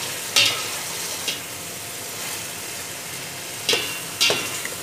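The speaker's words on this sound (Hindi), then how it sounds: "तो इसमें अब डालते हैं खड़े मसाले। सबसे पहले तो ये ज़ीरा जाएगा थोड़ा सा" Cumin and whole spices sizzle in hot oil in a pot for beef yakhni pulao, a steady close frying hiss broken by a few sharp scraping stir strokes, with no talking.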